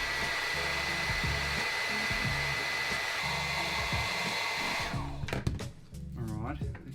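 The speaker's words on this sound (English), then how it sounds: "I'm going to get the hairdryer out." A hair dryer blows with a steady, loud whir for several seconds, then cuts off, leaving some brief clattering and a voice near the end.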